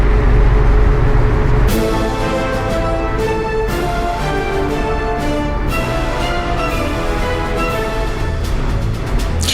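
Train audio from the city-building game Workers & Resources: Soviet Republic, with a steady loud rumble and a rhythmic clatter of repeated bursts over about ten seconds.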